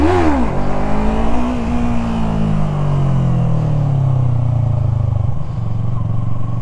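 A Yamaha MT03 motorcycle revs hard during wheelie practice, the engine climbing sharply then holding a loud, near, sustained drone that slowly eases in pitch.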